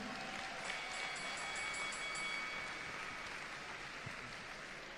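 An audience at a women's full-contact kickboxing event applauds steadily, a dense even wash of clapping that fades slightly toward the end in a large hall.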